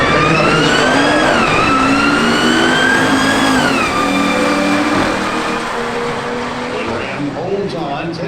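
A modified 500-horsepower BMW accelerating hard down a drag strip, its engine pitch climbing through gear changes in a loud, continuous rising roar that eases slightly toward the end.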